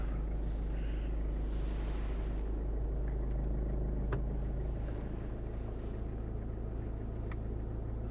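A Toyota Camroad 4x4 diesel motorhome engine idles right after starting, giving a steady low rumble that holds evenly and close for several seconds with no talking over it.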